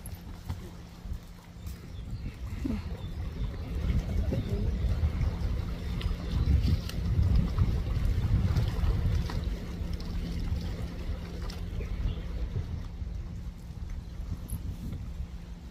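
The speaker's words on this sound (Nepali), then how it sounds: "हावा आएछ यहाँबाट" Steady wind buffets the microphone at Stanley Beach in Hong Kong, a continuous low, rumbling roar that swells slightly through the middle and persists throughout, with no voices.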